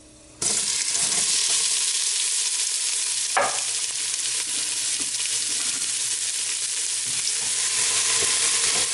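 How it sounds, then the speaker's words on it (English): Onions frying in a pot for a carrot and coconut soup, a steady loud sizzle that starts abruptly and runs throughout, with scraping stirs and one sharp clack of the utensil against the pot. "I'm gonna go right in with my onions, and we're gonna stir those until they just slightly caramelize"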